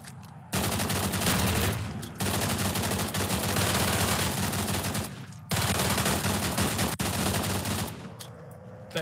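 Ray gun fire in the VR shooter Contractors on Meta Quest 2, long dense bursts of rapid shots broken by short pauses, loud and continuous with no voices over it.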